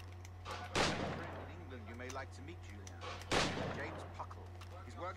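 Two loud booming gunshots fire a few seconds apart in Assassin's Creed Black Flag, each with a sharp burst and decaying tail, while a person talks between and over them against a low steady hum.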